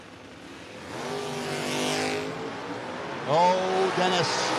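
Drag race cars, including a 1990 Mustang, rev and launch loudly at a No-Box 660 Shootout, with engine roar rising in pitch as they accelerate away, under an announcer's voice.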